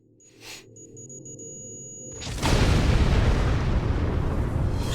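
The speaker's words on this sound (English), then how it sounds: "He's about to get his explosion" An explosion erupts in the video game Star Trek Online: faint electronic beeps and tones over quiet hum, then a sudden loud, sustained roaring blast that fills the rest of the moment.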